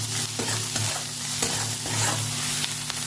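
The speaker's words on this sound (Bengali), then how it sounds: "পেঁয়াজটা ভেজে নেবো ভালো করে" Onions with green chili and salt fry in hot oil in a wok, a steady close sizzle with scraping stir strokes at an even rhythm and a low hum underneath.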